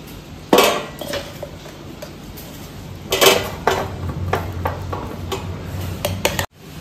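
Ground dates being scraped and transferred into a metal plate while making dry fruit barfi, heard as a series of sharp metallic clinks and taps, a few louder knocks among quieter scrapes, close by and with no talk.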